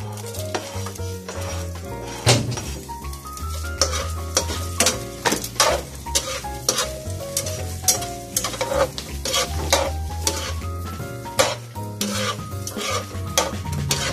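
Food frying in hot cooking oil in a pan, with a steady sizzle, stirring and clinks of utensils against the pan over a tonal background bed throughout.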